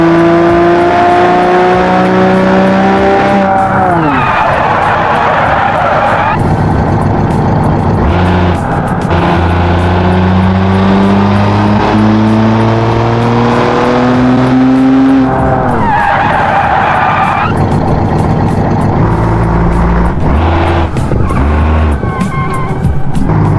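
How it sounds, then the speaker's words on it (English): A big 200-horsepower V12 engine in a car simulated in BeamNG revs hard and loud throughout, pitch climbing and falling through repeated runs, with tire skids and squeals mixed in and no talking. "We have a big old V12 derived from the fighter bomber planes of our father's factory, producing 200 horsepower in a big old V12"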